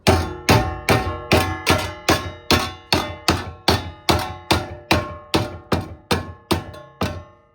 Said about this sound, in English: the hammer really helps because it helps you get those sharp corners